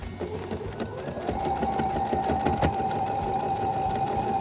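Sewing machine stitching a bulky quarter-inch quilt block seam, a steady close mechanical hum with rapid needle knocking that grows slightly louder partway through, no voices.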